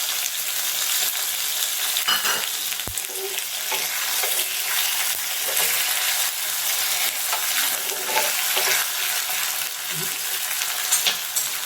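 Mustard seeds and chopped green chili sizzle steadily in hot oil for a tempering, a dense continuous crackle with scattered sharper pops and occasional utensil clicks, close and fairly loud throughout.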